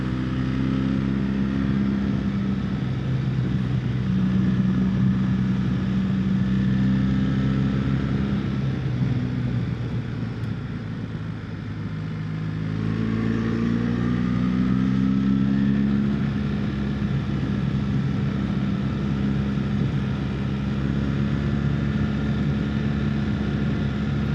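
A 2025 BMW R1300GS motorcycle climbs a road, its engine a steady loud drone that dips slightly midway and then swells again as it pulls, with continuous wind and road noise and no talk.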